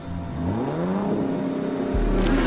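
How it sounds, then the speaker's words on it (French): A Bugatti Veyron sports car engine accelerates hard, the loud, close roar climbing steadily in pitch through the gears with a brief drop at a shift near the end. "Les Veyron comme la sienne ont le plus gros moteur du monde, ce qui lui permet de démarrer plus vite qu'un avion de chasse"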